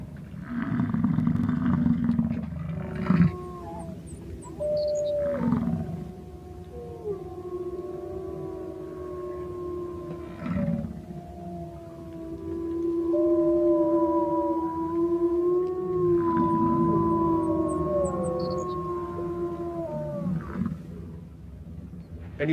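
Wolves howling in Wood Buffalo National Park, long rising and falling wails layered and overlapping over a low rumbling background, moderately distant and sustained for the whole stretch.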